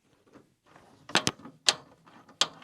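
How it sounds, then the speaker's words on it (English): A ratchet working 8mm taillight bolts loose on a Ford F-150, producing a few soft mechanical rasps and then several sharp, close clicks in quick bursts. "These are 8mm, so you can just get you a ratchet or whatever and take these loose."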